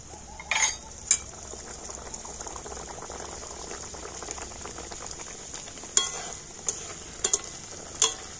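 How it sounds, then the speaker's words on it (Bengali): Naan puri deep-frying in hot oil gives a soft, steady bubbling hiss, with a few sharp splashes and crackles scattered through it. "তো আরো একটা নানপুরি তেলের মধ্যে দিয়ে দিলাম।"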